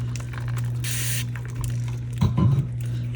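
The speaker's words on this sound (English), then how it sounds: "I should probably spray it." A short hiss of a spray bottle of alcohol, one quick burst onto resin work, followed by faint wet squishing sounds, close up over a low steady hum.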